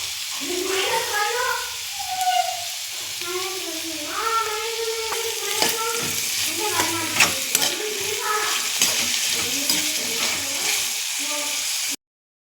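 Beetroot pieces frying with turmeric and salt, a steady close sizzle with repeated stirring clatter, overlaid by intermittent wavering vocal, meow-like cries.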